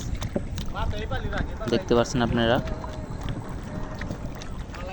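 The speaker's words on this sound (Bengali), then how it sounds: "প্রচুর বাতাস" Strong wind sweeps across the Kaliganga river while a small boat carries three friends. It makes a steady low rumble and buffets the microphone throughout, under someone talking.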